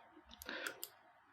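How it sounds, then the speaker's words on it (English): A computer mouse click and a keyboard Enter key press at a desk, heard as a few quick, faint clicks close together within a second. "we're going to click on our mouse and then hit enter on the keyboard"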